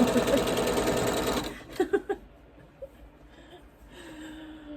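A sewing machine runs in a fast steady whir while a quilt block is stitched, then stops abruptly, followed by a few breathy gasps and soft sounds in a quiet room.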